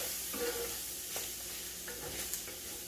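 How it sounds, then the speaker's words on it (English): Flour being stirred into browned sausage in a sizzling pan for sausage gravy: a steady low fry hiss with a few scattered scraping strokes, close and fairly quiet, with no talking. "just mix it around a little bit. Get that flour into that sausage some."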